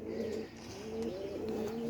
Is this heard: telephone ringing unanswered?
no